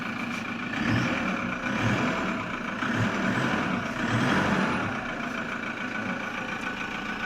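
A 2008 Toyota Vigo pickup truck engine runs steadily at idle nearby, a rough low rumble with slight surges, no talking.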